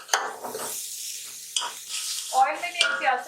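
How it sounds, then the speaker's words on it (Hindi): Finely chopped cabbage stir-fries in oil over a medium flame, a close sizzle broken by scraping stirs of a spatula against the pan. A voice speaks briefly over the frying near the end. "मीडियम फ्लेम पे हम इनको फ्राई करेंगे।"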